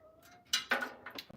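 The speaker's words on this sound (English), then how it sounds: "Why is my cat meowing?" A pet cat lets out a short meow, then a couple of quick higher cries, close by in a quiet indoor room during a PC build.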